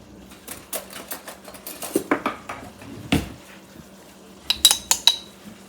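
Metal spoons clinking and rattling in a kitchen cutlery drawer while one is grabbed, a run of sharp close clatters and jingles, with a brighter burst of clinks near the end and no talk.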